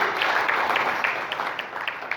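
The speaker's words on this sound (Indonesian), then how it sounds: "Tepuk tangan bakal wanita Forkami" Applause greeting the newly ratified Forkabi women's structure at an organization's working meeting in a hotel, a moderate crowd clapping steadily with scattered sharper claps, slightly distant and without speech over it.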